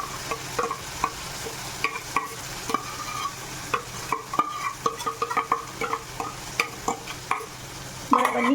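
Red chili and garlic paste frying in a pan with onion paste, stirred by a spoon in steady scraping strokes and clinks over a low sizzle, with a louder stir at the end.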